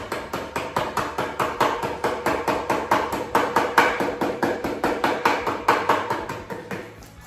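Metal edges are hammered down against a beveled edge. Rapid, evenly spaced hammer blows ring out close and loud, about four strikes per second over several seconds, with no talk.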